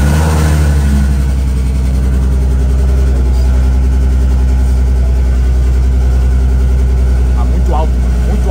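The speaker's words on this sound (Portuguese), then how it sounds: "Ele tá com barulho animal, por causa desse bagulho que tá solto." An Audi R8 engine idles loudly with a loose part, giving a deep, steady rumble that runs unbroken and close throughout, with no quiet gaps.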